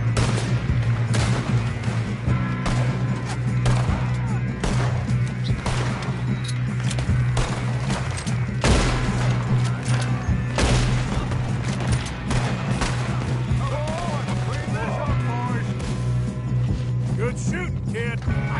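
Gunfire rattles through a shootout in Red Dead Redemption, sharp repeated shots and mechanical clicks over a steady low hum, with a few faint voices in the background.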